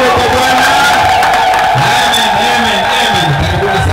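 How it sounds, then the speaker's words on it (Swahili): Church congregation at the opening of a prayer centre in Tanga cheering loudly with sustained crowd noise and high ululating cries, dense and continuous, voices shouting together. "Makofi na vigelegele kwa Bwana"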